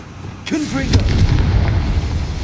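A Confringo fire spell in the Hogwarts Legacy video game bursts with a sharp crack, then a rumbling explosion roars and sustains, loud and close, with a spoken voice briefly over the start.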